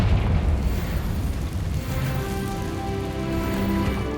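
A Confringo blasting spell explodes in Hogwarts Legacy, a heavy rumbling burst that rolls on as a dense, crackling roar for several seconds without easing much.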